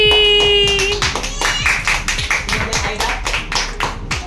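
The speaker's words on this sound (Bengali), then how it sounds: "হাততালি।" Group clapping right after a birthday song at a child's surprise party with students, a dense run of close, loud hand claps over about four seconds, with the tail of the singing fading at the start.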